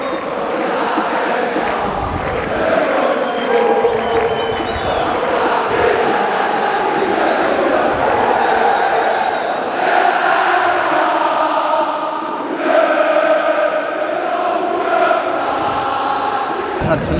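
A football crowd chanting in the packed stands of a stadium during a championship-winning season: loud massed voices in steady sung chants, continuous and close throughout, with a person talking over them.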